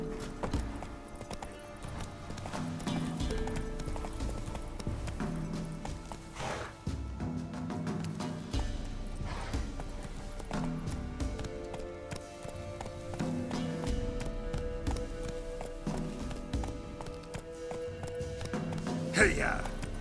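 A horse gallops in The Witcher 3 video game, rhythmic hoofbeats clip-clopping steadily at moderate volume beneath game music and voices, with an occasional snort or whinny.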